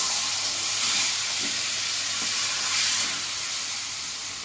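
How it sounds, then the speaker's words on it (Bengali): A hilsa fish head with turmeric fries in hot oil, giving a continuous bright sizzling hiss that holds steady at close range with no voices. "লাল লাল করে ভেজে নেবো মাছের মাথাটা"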